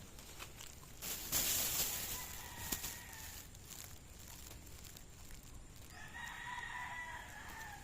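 A rooster crows loudly nearby, followed by another drawn-out crow toward the end, over faint background noise.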